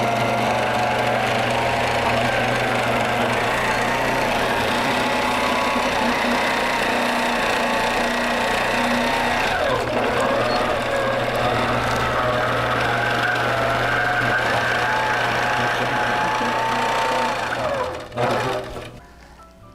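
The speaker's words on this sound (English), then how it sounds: "I'm going to turn my machine on and stitch across" A quilting machine on a quilt frame hums steadily while stitching a long line across fabric, its motor tone shifting slightly in pitch, then cutting off near the end.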